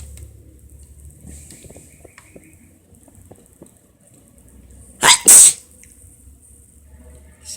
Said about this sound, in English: Hey, sorry for sneezing.